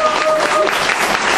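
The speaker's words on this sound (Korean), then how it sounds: "도움을 주신 강사님께 다시 한번 박수" Audience applause for an instructor closing a case-management training session: a brief, dense wash of clapping from a seated group, steady and fairly loud, with some talk mixed in.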